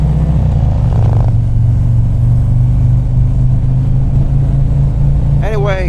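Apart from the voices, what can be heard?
Harley Street Glide motorcycle engine during evening ride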